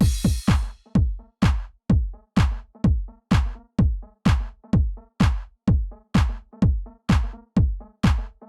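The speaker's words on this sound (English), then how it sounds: "And so now our intro beats sound like this." Electronic kick drum plays an intro beat in a steady four-on-the-floor pulse, about two hits per second, punchy and close, its tone opening up and changing as EQ shifts, heard alone.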